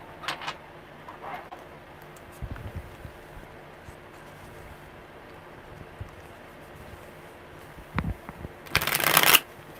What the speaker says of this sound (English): Good shuffles.